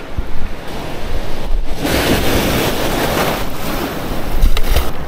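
Ocean waves break and wash steadily at a rocky surf spot, a continuous loud roar of surf with wind buffeting the microphone throughout.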